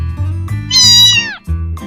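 A voice imitates a cat's meow: one drawn-out, rising then falling meow in the middle, loud and close, with low hum-like sounds from the same voice before and after.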